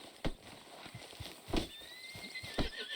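A horse in Red Dead Redemption 2 clops along with a few sharp hoof strikes, then lets out a high, drawn-out neigh toward the end, close and fairly quiet, with no speech.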